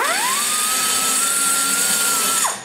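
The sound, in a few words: burr grinding a ProComp 190cc cylinder head valve guide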